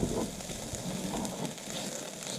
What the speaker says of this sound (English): We don't want to cook the garlic too much. Just want to infuse its flavor with the corn and the bell pepper.